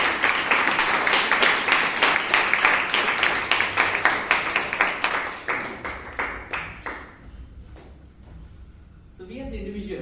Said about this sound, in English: Can we put a big round of applause for Toastmaster Ajit?